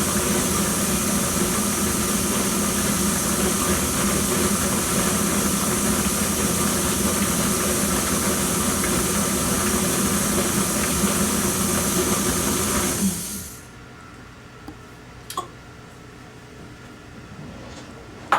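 An electric mixer hums steadily and loudly while creaming butter and sugar for communion bread, running continuously before cutting off abruptly, leaving near silence with a couple of faint clicks.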